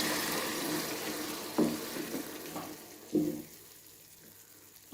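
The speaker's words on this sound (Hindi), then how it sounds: "अब इसके अंदर मैं थोड़ा सा पानी ऐड करती हूँ" Minced meat and onions frying in a pan for pyaz keema, with a steady sizzle and several sharp bursts as water is added, loud and close with no talking.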